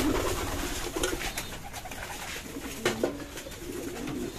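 Pigeons coo repeatedly as they feed inside a loft, soft throaty calls layered over a steady background rustle, with no talking.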